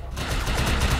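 Rapid automatic gunfire bursts from the video game Defiance 2050, a dense rattling volley of shots filling a short moment, loud and close.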